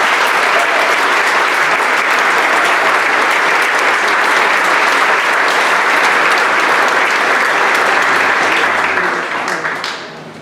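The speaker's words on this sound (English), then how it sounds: "Let's give them a round of applause." A large audience at a school prize night breaks into dense, loud, sustained applause that keeps going for about ten seconds before starting to fade at the very end.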